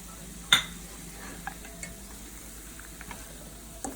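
Okra frying in a pan as fried cashews are stirred in: a sharp utensil clink on the pan at the start, then a soft steady sizzle with scattered light scrapes and taps of stirring.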